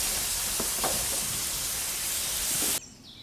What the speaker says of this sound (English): Just listen to that sizzle.